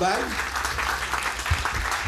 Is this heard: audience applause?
yes